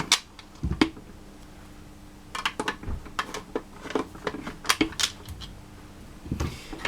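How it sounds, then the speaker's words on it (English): Screws being removed from a Dyson DC04 vacuum cleaner during a motor replacement, close sharp ticks and clicks of the screwdriver in irregular bursts over a quiet background. "I'll just take these screws out."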